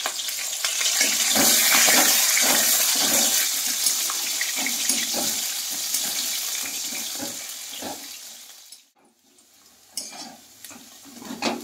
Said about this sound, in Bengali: কাঁচকলাটা ভেজে নেব।